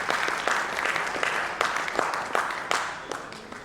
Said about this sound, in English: let's clap wholeheartedly for all the winners